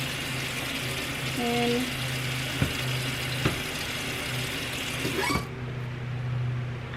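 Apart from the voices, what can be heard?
rinsing under running kitchen tap water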